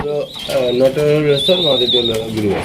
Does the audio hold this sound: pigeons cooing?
yes